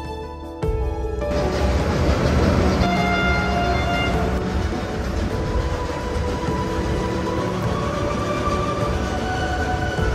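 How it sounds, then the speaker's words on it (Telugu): A train crosses a bridge over the Godavari river at Rajahmundry, a sustained loud rolling rumble with metallic rail tones, rising in at the start and continuing without talk. "ఆ బ్రిడ్జ్ మీద నుండి ట్రైన్ వెళ్తున్నప్పుడు కింద నుండి చూస్తుంటే"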